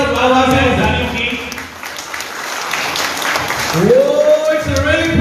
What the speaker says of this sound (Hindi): एक बार जोरदार तालियां सभी के जोरदार तालियां